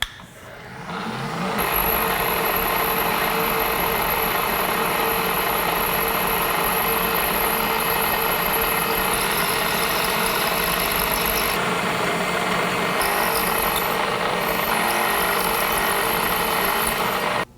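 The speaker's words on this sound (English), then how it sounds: "All right, we're gonna drill the holes for the air now." A drill bores air holes into a lathe tailstock, starting up after a moment and then running in a steady close whine with faint shifts in pitch, no talking.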